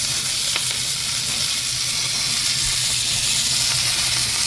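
Curry leaves crackle and sizzle in hot oil with mustard seeds, urad dal and dried red chillies, tempering for South Indian tamarind pepper rasam; a steady, close, broadband hiss runs throughout.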